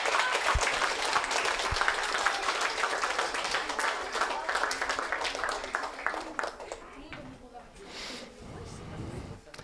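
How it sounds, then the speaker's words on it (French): An audience in a town hall applauds newly installed children's council members: sustained, moderately loud clapping from a crowd, tapering off toward the end as voices start to come through. "On les applaudit très fort"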